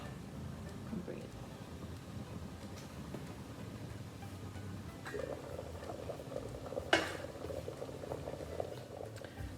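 A pot of fish curry simmers on the stove with a steady, soft bubbling that continues throughout. One brief click cuts in near the end.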